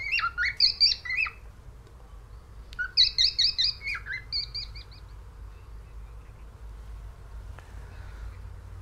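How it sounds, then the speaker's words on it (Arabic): A large parrot gives two bursts of rapid, harsh, rhythmic squawking calls, loud and close, separated by a short pause and followed by quiet low background hum. "وهي واحدة من طيور الببغاء كبيرة الحجم التي تتميز بقدرتها على ترديد الكلمات"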